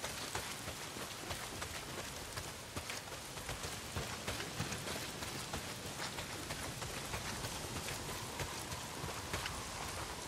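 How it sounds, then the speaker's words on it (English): Steady heavy rain pours across the outdoor game world of Days Gone, a dense, even hiss of drops beating on surfaces, close and continuous for the whole stretch with no voices. "Well, not if it's pissing down rain"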